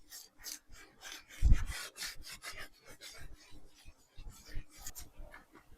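Lint-free cloth rubbing excess off paper reproduction artwork, giving repeated short, close scrubbing swipes in an uneven rhythm, with one heavier thump near the start.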